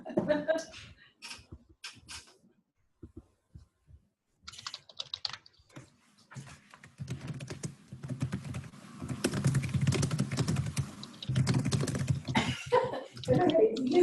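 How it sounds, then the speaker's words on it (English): Rapid typing on a computer keyboard, bursts of dense clicking that start and stop, then a long steady run of fast keystrokes, with a cough and brief talk mixed in. "usually typing away. Typing fast"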